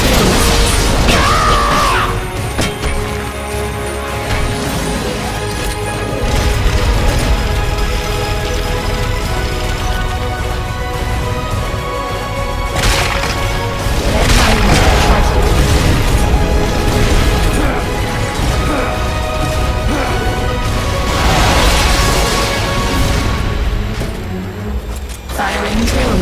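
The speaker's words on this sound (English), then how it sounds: "Firing tail missiles." Tail missiles firing in Metal Gear Solid: Peace Walker, loud bursts and crashing booms over a dense, continuous mix of game sound and music, with a voice speaking throughout.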